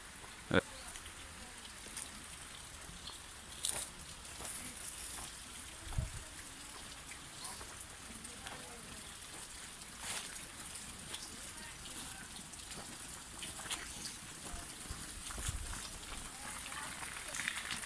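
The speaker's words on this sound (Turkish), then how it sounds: "Yağmurun sesini duyun." Rain hisses steadily on a greenhouse roof overhead, a soft constant patter broken by a few louder drips and knocks.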